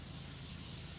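A powerful pressure washer hose in PowerWash Simulator blasts water at a subway train in a steady, loud, unbroken hiss.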